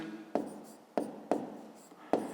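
A pen writes numbers by hand on paper while solving a fifth-grade maths exercise, giving four distinct, crisp strokes at uneven intervals, close and clear in a quiet room.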